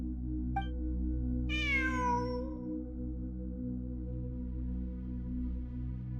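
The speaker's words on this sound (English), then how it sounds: "It really is a cat." A cat in a video game gives two meows, a short chirp and then a longer falling meow, heard clearly over a steady low ambient hum of game music.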